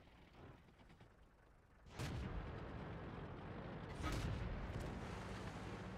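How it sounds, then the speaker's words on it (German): Tank cannon fire in World of Tanks, a sudden booming shot followed by a rumbling tail, with a second heavy blast a couple of seconds later over a constant engine drone, mid-distance and loud. "Jetzt hat er geschossen."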